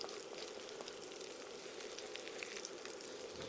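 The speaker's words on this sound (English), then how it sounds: "you actually fry it real good on both sides" Shrimp egg foo young frying in a pan until crispy on both sides gives a quiet, steady sizzle and crackle, fairly faint and even throughout with no talking.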